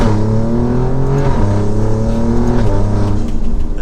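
A tuned 600 HP Alfa Romeo Giulia Quadrifoglio being driven, its engine droning loud and close from inside, with pitch shifting as it accelerates and changes gear, steady throughout without talk.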